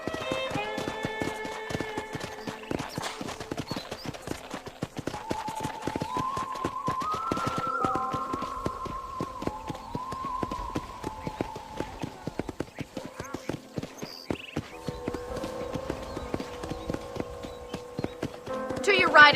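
Horse hooves clip-clopping on a ranch in the video game Red Dead Redemption 2, a steady rhythmic trot running throughout under intermittent talk and game music.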